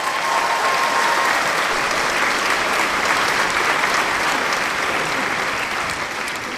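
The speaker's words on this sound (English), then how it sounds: "Can we get a round of applause for ICE?" Studio audience applauding on a late-night talk show, a steady dense wash of clapping that holds at full strength throughout with no voices on top.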